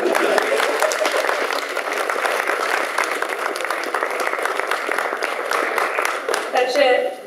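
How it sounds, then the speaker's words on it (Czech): Audience applause for a complete team called up onstage at a live show, dense steady clapping from a crowd throughout, with a few voices faintly audible near the end. "Takže děkuji za potlesk pro kompletní tým."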